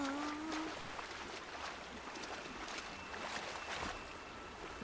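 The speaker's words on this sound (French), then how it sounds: "Je nage contre courant." Steady watery swishing and splashing of swimming against the current in the video game Horizon Zero Dawn, with a brief tonal chirp at the start; no talking.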